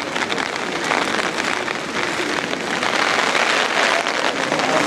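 Rain drums steadily on an umbrella in strong wind, a loud, dense and continuous patter with gusty noise mixed in. No one speaks.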